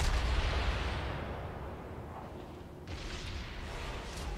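Warship guns fire high-explosive shells in World of Warships, a deep booming blast that rolls off and is followed by a second muffled thump.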